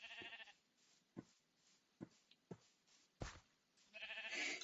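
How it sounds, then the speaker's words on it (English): Several short sheep bleats from a Minecraft-style game, Hungry World, come close together. Brief clustered cries sit at the start and end, with sharp separate calls between them. No one talks. "Now, I thought I saw a green sheeps."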